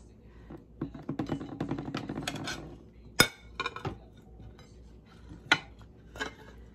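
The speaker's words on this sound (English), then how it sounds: "I like to just run my knife around the side, loosen it up a little" A knife scrapes and clinks around the inside of a ceramic mug to loosen a baked pumpkin dump cake, giving a run of close scraping taps followed by a few sharp separate clinks.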